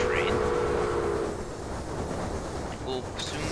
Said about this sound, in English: The Limited will pass through us, well, the local passenger train.